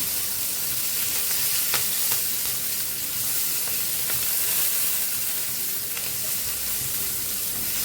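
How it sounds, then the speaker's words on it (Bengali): Crushed ginger sizzles in hot oil in a pan, a steady dense frying hiss with occasional stirring scrapes, close and continuous with no talking. "আদাটা একটু ভেজে নেব।"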